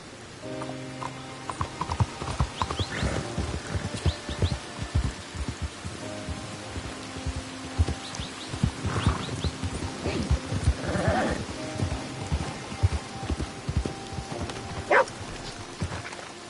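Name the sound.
horse riding and hooves in video game Red Dead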